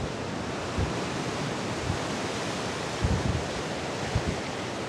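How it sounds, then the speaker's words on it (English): Small ocean waves wash onto Pandawa Beach in Bali, a steady broadband surf roar with gentle swells and a few soft low bumps, heard alone without voices. "areas here with very small waves."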